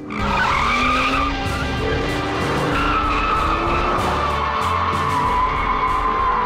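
A hybrid supercar with electric motors skids about, its tires squealing in long wavering tones over a steady engine roar, loud and close.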